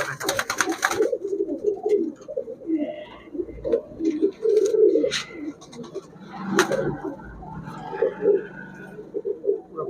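Pallaline pigeons for sale at a Bangladeshi market coo repeatedly in soft, throaty, overlapping phrases, close by, with scattered chirps and some background bustle throughout.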